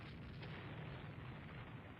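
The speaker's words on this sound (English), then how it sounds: "Aquitaine hit, flash fire, blows up." Warship Aquitaine blowing up in the naval game Rule the Waves 3, a faint, muffled, rumbling blast that holds as a steady low roar for two seconds, heard alone without talk.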